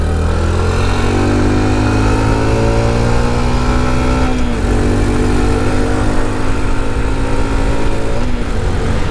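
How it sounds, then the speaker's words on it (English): Honda Trail 125 Hunter Cub motorcycle engine running steadily after a heel-toe downshift on a fast turn, a loud, continuous near drone with a slowly falling pitch and a brief dip midway. "I was able to heel toe downshift it."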